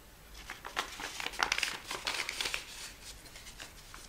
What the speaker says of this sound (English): now you're going to make the mountain fold along this line